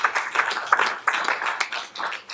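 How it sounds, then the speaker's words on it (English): A short burst of scattered clapping from a small group, uneven and fairly quiet, fading in and out over a couple of seconds. "Another round of applause for Mr. Judons"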